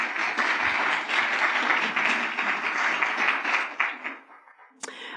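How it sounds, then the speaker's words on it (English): An audience at a digital identity conference breaks into sustained applause for the speaker, a dense, fairly loud wash of clapping that thins out toward the end, with a sharp sound just before it closes. "let me give a big applause for Jacoba Sieders"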